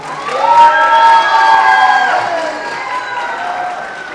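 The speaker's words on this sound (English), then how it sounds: "Let's give another round of applause, everybody." Crowd at a royal court speech and debate event applauding and cheering after a speech, with loud whoops and shouts over steady clapping that gradually eases.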